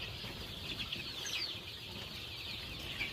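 Fayoumi chickens on a poultry farm cluck faintly and steadily in the background, with light chirps and a low continuous farm hum.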